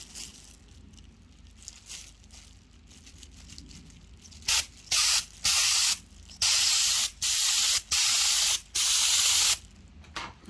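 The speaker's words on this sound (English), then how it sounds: "It's exactly what you'd expect an airbrush to do." Airbrush spraying leather dye onto a Peugeot 207 CC car interior, heard first as a faint hiss, then as a series of loud, even bursts of spray with short gaps between them.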